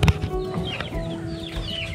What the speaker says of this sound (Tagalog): Yan na naman kayo mga manok.